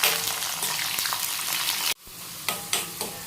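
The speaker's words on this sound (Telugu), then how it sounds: "పోపు దినుసులు వేగాక ఇట్లా చిన్న ఉల్లిపాయలు వేసుకోవాలి" Small onions fry with seasoning spices in a pan for a ridge gourd peel chutney, giving a dense close sizzle. A sharp drop near the middle is followed by a few louder scraping stirs.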